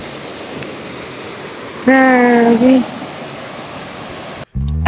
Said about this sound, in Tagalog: Ang lakas, ang karit ng tubig.